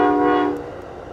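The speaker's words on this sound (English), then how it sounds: "This looks like it's just an Amtrak that's going to pass quickly." Amtrak train at Mukilteo, Washington, sounding its horn as it passes, a loud sustained blast that fades quickly into rolling rumble.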